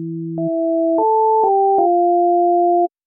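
Raw sine-wave tone from a SunVox analog generator, a pure electronic synth stepping through a short sequence of held notes, clean and steady, then stopping abruptly after about three seconds.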